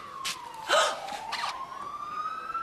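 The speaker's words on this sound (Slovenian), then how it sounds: "lej, rešilc prihaja." An ambulance siren sounds in a Slovenian TV drama, a steady, rising electronic wail at moderate distance, broken by a couple of short breathy gasps.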